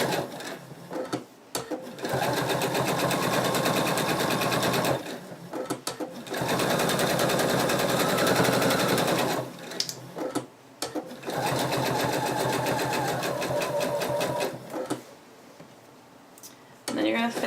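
Sewing machine stitching a U-shaped seam on a betta fish plush toy, running loud and steady in long stretches with brief stops, close by and without talk.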